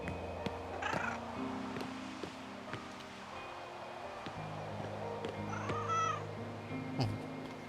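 Game cat in Broken Roads meows twice in short, rising calls over a steady ambient game soundscape with low drones and light rustling.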